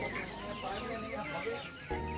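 Nineteen-day-old poultry chicks cluck and cheep softly while eating feed and drinking water in a poultry shed after the lights come on at night, a faint, busy murmur with a voice speaking over it.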